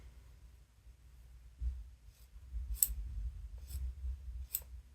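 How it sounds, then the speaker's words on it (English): Scissors snip surplus sewing thread on a patchwork dress, with three or four crisp, quiet cuts spaced about a second apart, close by in a calm room. "So when I cut the thread, I have a bit of surplus I'm just going to trim off here."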